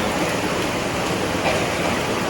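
A strong river current flowing through an underground cave, a dense, constant rushing roar with no pauses, close and loud throughout.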